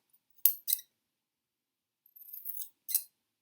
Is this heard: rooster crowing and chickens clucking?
no